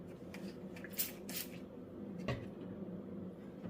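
Two quick hissing spritzes from a spray bottle, close and fairly quiet, followed by a soft knock against a low background hum.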